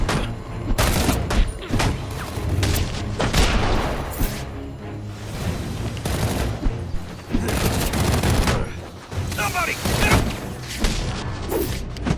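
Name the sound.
gunfire in video game Batman Arkham Origins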